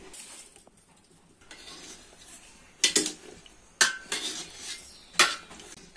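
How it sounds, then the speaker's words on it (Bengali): A spoon stirring tamarind into bottle gourd curry in a metal pot, soft wet sloshing punctuated by several sharp metallic clinks against the pot, close by with no talk. "এখন নাইড়ে চেড়ে মিশিয়ে নিতেছি।"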